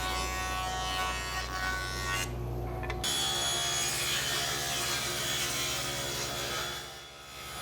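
Table saw ripping a walnut board into narrow strips for a segmented ring, a steady loud whine of blade cutting through hardwood that runs throughout, briefly dropping near the end as the cut finishes.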